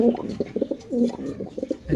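Racer pigeons coo in repeated soft, throaty bursts close by, a rhythmic series of low rolling calls over the short stretch.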